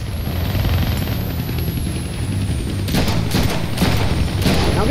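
A helicopter in the Deadpool video game drones with a constant heavy rotor rumble, joined in its second half by sharp bursts of gunfire cracking over the loud engine noise.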